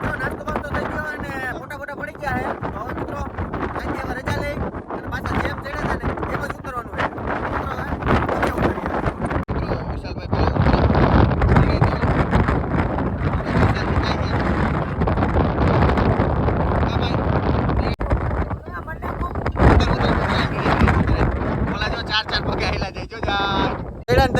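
Strong gusting wind on Osam hill at Patanvav, loud rumbling buffeting against the microphone for the whole stretch, with people talking over it.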